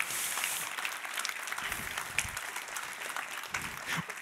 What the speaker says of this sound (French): Ça méritait quelques acclamations.